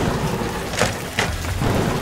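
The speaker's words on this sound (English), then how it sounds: "Can't stay out here in this rain for long." Rain and thunder in a video game: steady loud rainfall hiss with two short bursts of crackling thunder close together, no talking.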